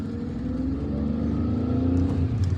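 A car drives up a street in Bab El Oued, Algiers, heard from inside as a steady low engine rumble and road hum, even and moderately loud, without speech.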